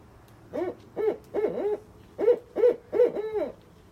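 A barred owl at a raptor center in the Oregon Cascades hoots two rhythmic phrases of several hoots each, loud and close, with no talking.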